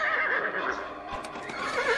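A horse neighs loudly and continuously near the listener, a shrill whinny with rising and falling pitch, alone with no talk.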